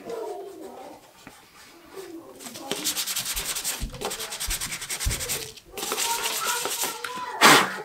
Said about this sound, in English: I'm kind of rounding over my sanded edges just a little bit here.